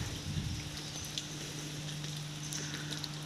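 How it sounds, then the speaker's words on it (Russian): Steady autumn rain with wind falls outdoors, a soft, even patter that is faint and continuous throughout, with a low steady hum beneath it. "Дождь и дождь и"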